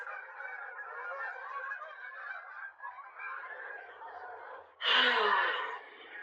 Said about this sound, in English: Guys, the geese.